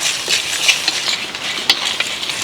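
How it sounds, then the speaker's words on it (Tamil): Fenugreek, pepper, cumin, dried chillies and curry leaves dry-roasting in a pan, with a soft continuous hiss and scraping stirs of a spatula, close and steady without speech. "நல்லா செவக்க வறுபட்டுருச்சுங்க நல்லா வாசனையும் வருது"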